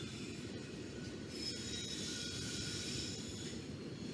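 A heavy Norfolk Southern freight train rumbles steadily past close by, with wheels squealing high above the low roar of the cars.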